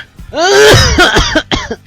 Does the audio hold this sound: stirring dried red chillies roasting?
no